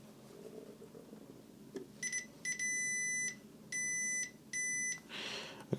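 Multimeter continuity test beeping while probing components on a PlayStation 2 circuit board, with short and longer steady electronic tones in a few bursts, close and clear in a quiet room.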